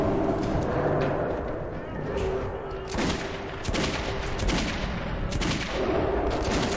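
Gunfire in the Metro 2033 video game, a series of sharp shots and bursts cracking over a steady game background, spread across the clip with no voices between them.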